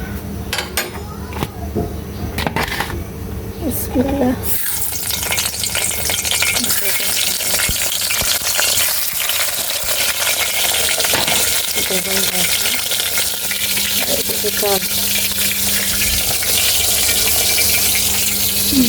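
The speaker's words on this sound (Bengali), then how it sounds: "আর এদিকে বেগুনটা ভাজবো এখন যে পাশে কড়াইতে তেল দিয়ে" Eggplant frying in oil in a wok gives a loud, continuous sizzle that swells after a few seconds and then holds steady, with occasional utensil clinks and brief faint voice sounds.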